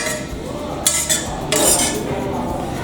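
Karanji filling stirred in a pan over a raised gas flame, a steady scraping with two louder clinking bursts of the spoon against the metal, close and with no talking.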